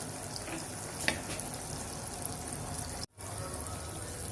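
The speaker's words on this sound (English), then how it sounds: "add 50 grams of butter in a pan. Let it melt on low flame" Butter melts in a pan over a low flame, a steady, faint sizzle with soft crackles, broken once by a brief dropout.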